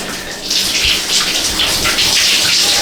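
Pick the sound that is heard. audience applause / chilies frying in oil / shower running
shower running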